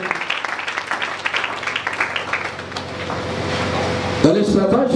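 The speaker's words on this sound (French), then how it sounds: "Acclamons pour le Seigneur" A church congregation applauds in praise, a dense wash of clapping filling the room under a preacher's voice, with more voices breaking in near the end.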